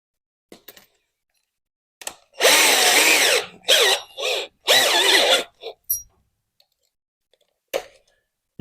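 A power drill fitted with a socket adapter, used to work on a Suzuki TL1000 motorcycle oil change, whirs loudly in three close bursts of a few seconds each, with scattered clicks and taps between them.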